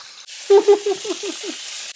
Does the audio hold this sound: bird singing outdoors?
no